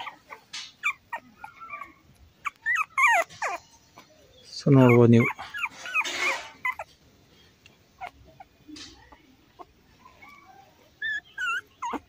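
Beagle puppies about fifteen days old give a short burst of high, wavering whimpers around the middle, with someone talking before and after and scattered faint squeaks and handling noise.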